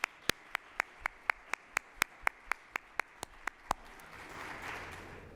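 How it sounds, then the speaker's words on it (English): Applause at a community forum panel on influencers in Columbus, heard as a run of evenly spaced, sharp single claps, about one every quarter second, then a softer wash of scattered clapping fading at the end. "Let's give you a round of applause."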